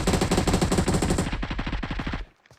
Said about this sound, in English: Man, I missed a lot of shots.